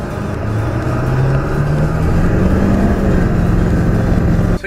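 A Ford 7.3 Powerstroke diesel truck with heavy turbo lag accelerates slowly, its loud engine drone climbing gradually in pitch over several seconds, close and continuous.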